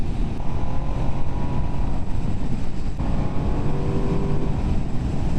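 Ducati Streetfighter V2S motorcycle induction noise, a loud close engine roar holding a steady rumbling drone throughout, with a slight shift in pitch near the middle and no talking.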